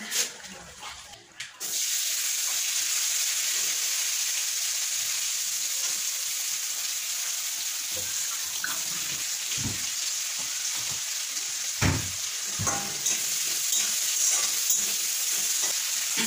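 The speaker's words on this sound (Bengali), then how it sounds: "জিরে গুঁড়ো জিরে ফোড়ন দিলাম" Whole cumin seeds tempering in hot oil in a home kitchen give a loud, continuous sizzle and hiss that runs steadily, with occasional clinks and pops over it and no talking.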